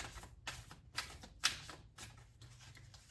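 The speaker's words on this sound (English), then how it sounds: "I'm going to give it another couple shuffles" Tarot cards are shuffled in a few quiet, crisp riffling bursts separated by short pauses, close by and soft, with no talking over them.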